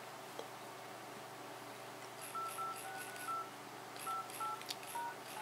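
Keypad tones from the Android 2.2 dialer on a Dell Streak, several short beeps in two quick clusters over faint background hiss, each tone brief and evenly spaced.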